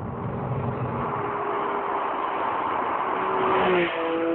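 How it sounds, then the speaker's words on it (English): A sports car engine, likened to an old Porsche 911, accelerating hard: a loud, continuous rising engine note with a brief shift-like dip near the end before pulling again, heard alone. "Wow, what an engine."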